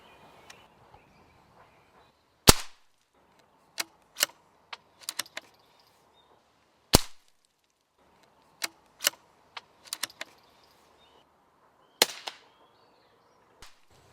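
.22 rifle being zeroed outdoors: three sharp, loud cracks fire roughly four to five seconds apart, with lighter scattered clicks and taps between them and quiet pauses in between.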